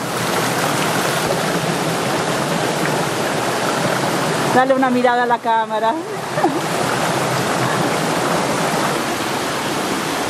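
Mountain stream rushing past a water-powered wheel driving a rock tumbler, a steady broadband flow of water heard close and continuous, with a brief burst of a voice speaking over it midway.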